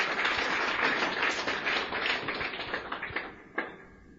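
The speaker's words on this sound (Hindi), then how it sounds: "तालियां बजा दें इनके लिए एक बार" Audience applause at a talk in a hall, a dense burst of many hands clapping that fades over a few seconds, ending in a few isolated claps.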